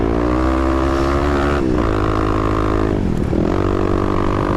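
A 250 dirt bike engine climbs sand hills in second or third gear, loud and close, revving steadily with two sharp dips and pitch changes as the throttle is chopped and reopened.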